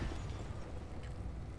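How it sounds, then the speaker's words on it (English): A booming explosion in a mech combat video game, a dense low rumble sustained at steady loudness across the short clip without talk. "Nice explosion."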